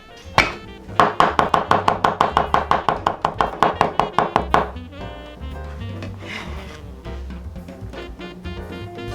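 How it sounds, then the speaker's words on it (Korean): A knife minces ginger rapidly on a cutting board, about twenty quick regular strikes for several seconds, then stops, leaving soft background clatter. "이렇게 재료를 다 다졌습니다"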